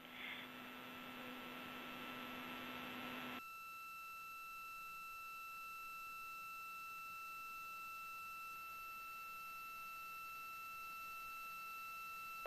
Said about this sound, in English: The reduced pressure alarm,